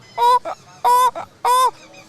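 A man imitates the honking of a pair of geese with his voice, three loud nasal honks in a steady rhythm, each followed by a shorter grunt-like call, close up with no other talk.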